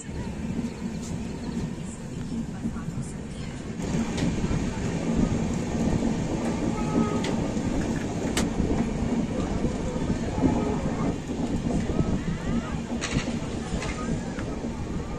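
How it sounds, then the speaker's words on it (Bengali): Jammu Tawi Express train running on the rails near Hazaribagh Road station, a steady rumbling clatter of wheels and carriages heard from onboard, continuous and fairly loud, with brief sharp clanks along the way. "আর আমাদের ট্রেন এসে পৌঁছালো হাজারিবাগ রোড স্টেশনে"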